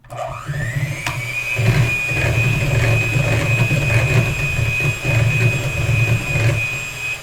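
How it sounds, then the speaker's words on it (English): An electric hand mixer whirs steadily while whipping liquid soap and water into bubbly fingerpaint, starting up with a rising whine and then holding a loud, continuous drone with slight wobbles as it churns. "And you're just going to take the mixer and we're going to mix."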